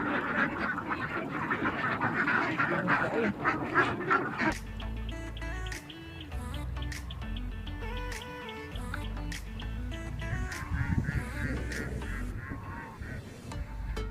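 A large flock of free-range ducks on a farm quacks continuously, a dense overlapping chorus of loud nasal calls heard nearby with no speech.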